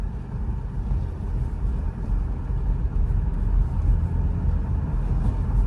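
A Chevy Impala with a freshly repaired speed sensor drives steadily, its low engine and road rumble continuous and fairly loud, with some wind noise throughout and no talking.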